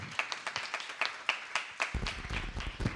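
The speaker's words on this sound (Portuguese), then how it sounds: "Vamos aplaudir os professores aí para fazer eles criarem coragem." Teachers are applauded at a youth council session at Maria Lúcia Padovani Oliveira, with distinct sharp claps from a few people near at hand, then denser, louder clapping that fills in after about two seconds.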